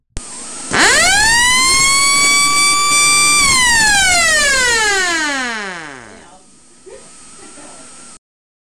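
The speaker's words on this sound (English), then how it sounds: "people say the siren is loud" A loud electronic siren from a seven-pole alarm unit winds up sharply, holds a steady high wail for several seconds, then winds down in a long falling glide before a quieter tail cuts off.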